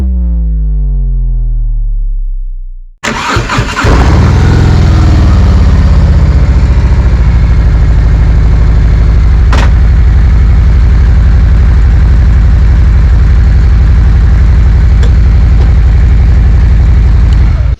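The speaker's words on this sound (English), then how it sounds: "The first time I got on and fired up the bike" 2024 Harley-Davidson Road Glide motorcycle engine starting, an abrupt loud fire-up followed by a deep, steady, rumbling idle that holds close and strong for about fifteen seconds, preceded by a falling whine.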